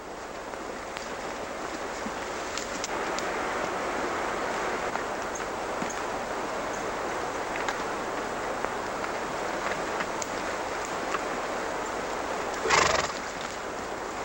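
A horse whinnies briefly near the end over a steady broadband rush of outdoor noise, with scattered faint clicks and shuffles throughout.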